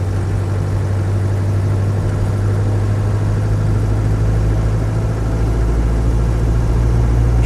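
A Land Rover 90 with a 2.5 diesel engine drives along steadily, its low, constant drone and road rumble heard from inside the cab with no talking.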